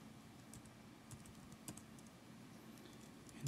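Quiet, steady typing on a computer keyboard while notes are entered into a mind-mapping program, key presses ticking at an even pace with a few slightly louder taps.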